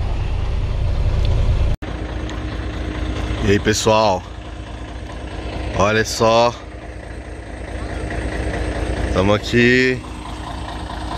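Truck engine running steadily inside the cab of a moving carreta on a highway in Goiás, a constant low rumble and rattle throughout with someone speaking over it in several bursts.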